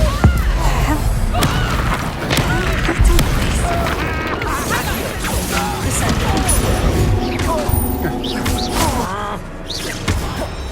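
Spell impacts and explosions burst in rapid succession during Hogwarts Legacy combat, with booming blasts, crashes and thuds piling up densely, while a voice shouts spell names throughout.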